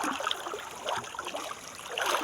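River water runs steadily over stones in a shallow stretch of the Sankri river, a continuous close rushing and trickling without any voices.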